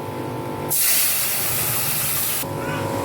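Lentils (dal) are poured into hot oil with fried curry leaves for sambar, bursting into a loud, steady sizzle that holds for nearly two seconds, then drops back to a quieter kitchen background.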